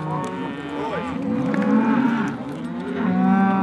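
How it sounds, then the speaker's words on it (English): Cattle on a Montana cattle drive moo loudly and repeatedly, with several overlapping low bellows from bulls separated from the females, close by and continuous over open outdoor background. "One was just kicking up dust a second ago and mooing aggressively."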